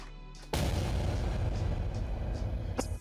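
A sudden deep boom bursts in and rolls on as a loud, rumbling blast with crackling debris, fading slightly toward the end.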